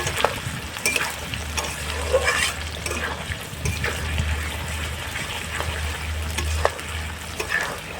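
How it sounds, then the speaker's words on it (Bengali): Onion sizzles and crackles in hot oil in a wok, with scraping stirs and soft clinks breaking into the steady hiss, heard up close without speech. "পেঁয়াজটা একটু ভাজা ভাজা হবে"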